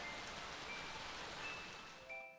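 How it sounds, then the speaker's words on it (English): Rain falling in the video game Hatoful Boyfriend: Holiday Star, a dense, steady hiss of heavy rainfall with faint tonal game sounds drifting through, fading slightly at the end, no voices. "Hey, Nageki, don't you think the rain's getting a little heavier?"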